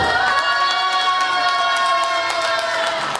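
An audience of about 150 at a book concert shouts and cheers together in a continuous, loud, dense roar, held steadily throughout.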